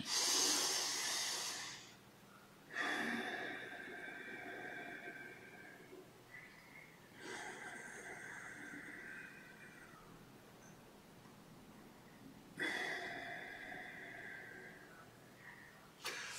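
Deep yogic pranayama breathing, the belly, chest and upper lungs filling in turn: three long airy breaths, each lasting several seconds with pauses between, close and fairly faint, with no talking.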